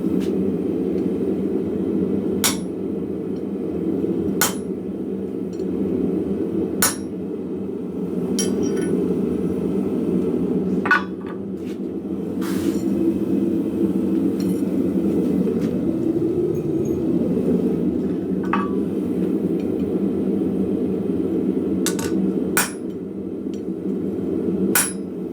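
Heat-treated blacksmith ball end punches struck with a hammer: sharp metallic hits spaced a few seconds apart, about nine or ten in all, over a steady low hum of shop or forge noise.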